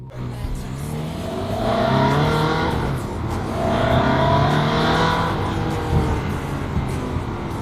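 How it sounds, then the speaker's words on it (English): A Ferrari 360 Spider's exhaust revs hard in two rising surges, a loud, throaty engine roar swelling and easing without any voices. "But hey, we've got exhaust sound."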